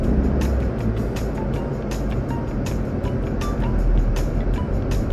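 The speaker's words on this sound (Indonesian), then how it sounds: "Suara mesinnya khas banget ya. Gabungan suara fan sama suara mesin nih." A 2000 Toyota Kijang Kapsul LSX with a 1.8 EFI engine is driven along, its steady engine drone blended with cooling fan whir, a continuous broadband rumble filling the cabin with regular faint ticking throughout.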